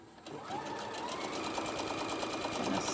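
A sewing machine runs steadily, stitching fabric for a small chicken-shaped pincushion, its motor whirring close and continuous for the full stretch after a brief start.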